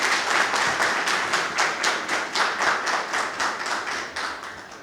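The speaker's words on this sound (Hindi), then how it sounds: "आइए राजपाल सिंह चौहान जी का तालियों के साथ स्वागत करते हैं" An audience at a poetry recital claps to welcome the poet Rajpal Singh Chauhan: steady, rhythmic unison clapping at a brisk even beat, close and clear, with no talk.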